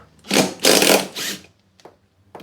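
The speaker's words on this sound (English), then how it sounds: "The easiest way to remove the blade is to use an impact driver or an impact wrench." Impact driver with a 15mm socket loosening the blade bolt on a Ryobi 40V lawn mower: three loud, close bursts of rattling hammering about half a second each, followed by a few faint clicks.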